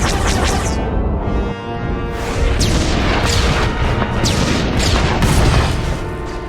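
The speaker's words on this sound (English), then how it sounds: "The orbital strike has secured the landing area perimeter." Orbital strike bombardment in a Star Wars: The Old Republic cutscene: a continuous barrage of heavy booming blasts and crashing impacts, dense and loud throughout, with sharp debris cracks layered over a deep rumble.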